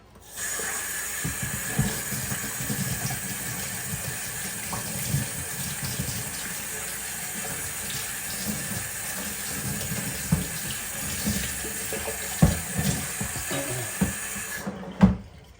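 Tap water runs steadily over rusty motorcycle parts as they are rinsed after an Evapo-Rust soak, a continuous close hiss with a few clunks of parts shifting near the end.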